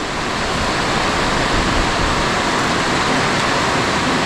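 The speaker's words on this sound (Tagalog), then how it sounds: "grabe ang lakas po ng ulan" Heavy rain pouring down on a farm in a steady, dense roar of broadband noise, loud and unbroken, with no voices.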